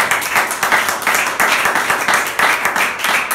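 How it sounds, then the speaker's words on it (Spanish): Church congregation applauding at a religious service, loud sustained clapping from many hands with rhythmic swells, no talk over it. "Ese aplauso sea para Jesucristo."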